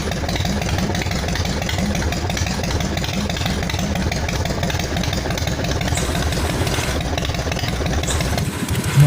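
A Harley-Davidson Evolution V-twin motorcycle engine idles steadily and loudly, with a continuous throbbing rumble and mechanical clatter heard up close, uninterrupted and without talk.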